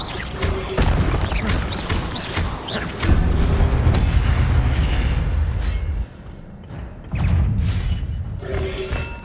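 Repeated booming blasts of the Incendio fire spell in Hogwarts Legacy, heavy thuds and crashes arriving in loud clusters with brief lulls between them, layered with sharp impact cracks.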